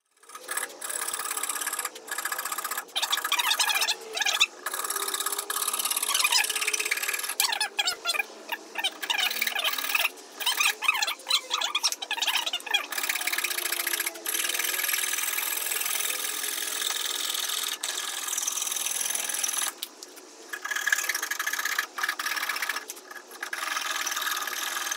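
A hand saw cuts a circle out of a wooden board clamped to the edge of a table, giving a steady rasping, scraping rub that runs almost without a break. It stays close and fairly loud, with brief pauses, and nobody speaks.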